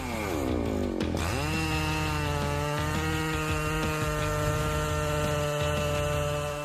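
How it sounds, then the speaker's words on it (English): A Husqvarna 3120 XP chainsaw roars continuously at close range, its pitch dipping sharply as the chain bites into a large log and then holding a loaded, steady whine as it cuts through the wood. "The resounding sound of the Husqvarna 3120 XP chain saw makes us admire the power it brings."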